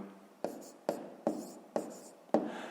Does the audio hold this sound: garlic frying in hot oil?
no